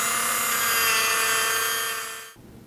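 Dremel 8240 12-volt cordless rotary tool fitted with a wire wheel whirs loudly and steadily at high speed, then cuts off abruptly near the end, leaving quiet background.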